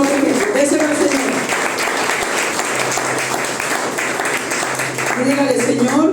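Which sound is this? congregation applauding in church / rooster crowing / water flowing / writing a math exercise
congregation applauding in church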